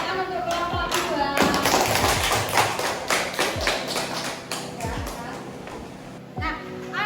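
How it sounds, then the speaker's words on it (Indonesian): Classroom applause for a student group, a burst of children's clapping and tapping mixed with chatter and young voices in a school room. "Tepuk tangan untuk kelompok 2."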